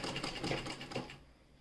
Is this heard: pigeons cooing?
no